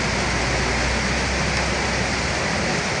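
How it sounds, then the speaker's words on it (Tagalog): Heavy rain pours steadily in Santa Cruz, Manila, a dense, constant hiss with no pauses or voices. "Palakas ang ulan."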